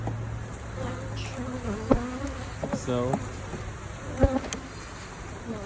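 Honey bees buzz steadily around an open hive, a continuous near hum with a few louder passes of individual bees. A voice speaks briefly.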